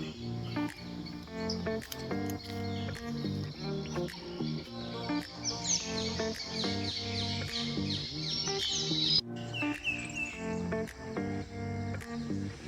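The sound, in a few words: birds singing in a forest bird sanctuary in Sri Lanka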